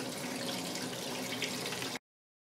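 Steady running water from a tap while small metal miniature parts are washed under it, a continuous close splashing hiss that holds evenly for about two seconds, then cuts off abruptly.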